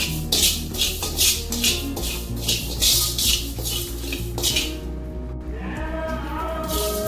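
Rice being dry-roasted in a pan until reddish, giving steady rhythmic scraping and rattling of grains against metal as it is stirred, moderately loud and close, with a low hum running underneath.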